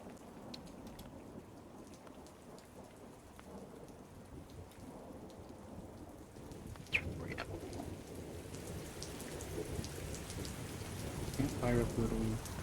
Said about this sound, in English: So if you notice, it is actually raining.